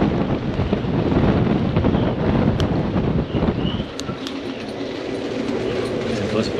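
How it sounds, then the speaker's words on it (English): Storm wind buffeting a moored boat at night during a storm surge in Aabenraa, Denmark, heavy roaring gusts and mic rumble with a few sharp knocks against the hull, easing slightly halfway through. "there's some noise from the mooring lines in the front and something banging on the side of the hull"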